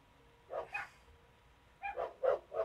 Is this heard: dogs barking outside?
yes